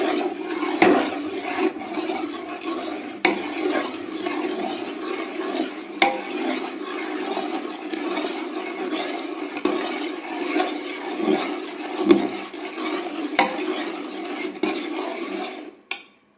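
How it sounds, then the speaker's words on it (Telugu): A spoon scrapes and stirs continuously through melting jaggery syrup in a pot, a close, steady rasping rhythm with faint sizzling and no talk. "ఇలా కలుపుతూనే ఉండాలి, లేదంటే కింద అడుగంటేస్తుంది."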